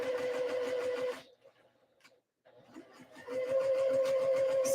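A sewing machine stitches a fabric skort around a circle near a folded edge, whirring in steady close bursts, pausing briefly in the middle, then running on again.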